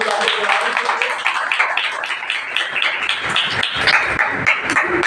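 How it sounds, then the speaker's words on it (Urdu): A church congregation at a Sunday meeting in Pakistan breaks into loud, sustained applause, a dense wash of clapping that fills the room steadily for several seconds. "زوردار تالیاں"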